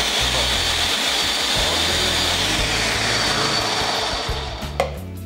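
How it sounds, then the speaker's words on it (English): Kitchen blender crushing cauliflower in cold water, a continuous whirring motor drone with choppy churning beneath, running steadily before easing off near the end. "So we're going to put it in our blender here."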